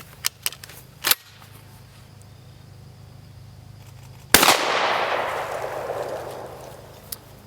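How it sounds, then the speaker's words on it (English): A shotgun fires a 1 ounce slug outdoors: a single loud blast with a long rolling echo trailing off over a few seconds, preceded by a few small clicks and pops. "let's shoot a slug here. I've got a 1 ounce slug."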